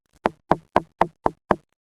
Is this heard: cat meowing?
no